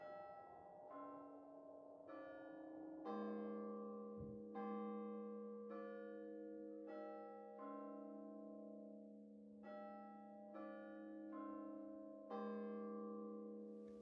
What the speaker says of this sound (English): When the bell tolls 1.